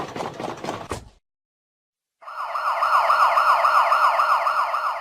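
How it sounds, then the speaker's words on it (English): An ambulance siren warbles in a fast, repeating up-and-down pattern, loud and steady, after a brief spoken word and a moment of silence. "Ambulance."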